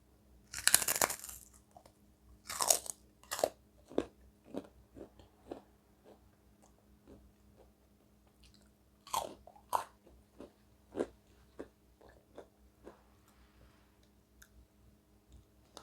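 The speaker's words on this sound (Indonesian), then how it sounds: "Saya kalau nyokot kerupuk, gigit kerupuk ini" Crunchy Indonesian kerupuk crackers being bitten and chewed, a few loud sharp crunches followed by a run of smaller crisp chewing cracks, close to the ear in a quiet room.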